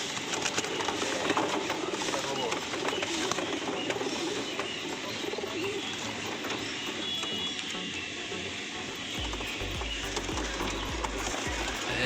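Pigeons cooing at a busy pigeon market in Kolkata, low soft coos buried in dense crowd noise and talking, with a heavy low rumble near the end.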